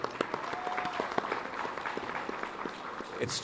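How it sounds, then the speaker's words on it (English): An audience at a sports hall of fame induction ceremony applauds the coaches, with moderate, fairly distant clapping from a crowd and a few sharper individual claps. "Yeah, I give them a big round of applause"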